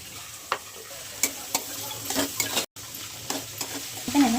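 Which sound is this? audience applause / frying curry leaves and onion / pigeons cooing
frying curry leaves and onion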